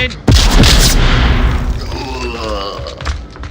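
A grenade blows up during a competitive video game scrim, a loud booming blast with a thudding punch and a rumbling tail that fades over a few seconds.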